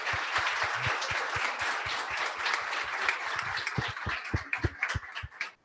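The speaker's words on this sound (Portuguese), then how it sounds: "Queria pedir uma salva de palmas para toda essa galera" An audience at a design community event (an IxDA Blumenau fishbowl talk on design careers) gives sustained applause, a dense wash of claps that thins into sparser, louder individual claps before fading out.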